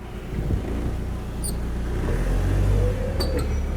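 A Hyster S50FT propane forklift's low engine rumbles steadily throughout as it gets moving, with a few faint clicks and squeaks and a brief voice in the background.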